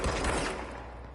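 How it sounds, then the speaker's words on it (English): Rapid burst of gunfire as a weapon empties a full magazine in the game Control, a dense, loud, continuous volley that fades slightly toward the end of the short burst. "Mag dump."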